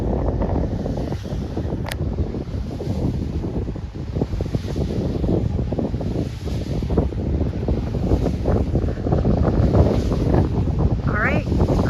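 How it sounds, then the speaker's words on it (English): Strong wind buffets the microphone outdoors on a hay-cutting day, a continuous loud rushing roar with low gusting rumble that stays steady throughout. "It's very windy today."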